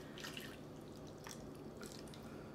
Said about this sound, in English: we're just going to pour this right on top of our chicken